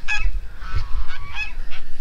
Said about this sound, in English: Geese are out and about this morning.